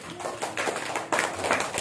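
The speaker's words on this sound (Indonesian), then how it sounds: "tepuk tangan buat Rizky" A classroom of pupils claps for a classmate, a short, fairly close burst of scattered hand claps that briefly dips and then picks up again.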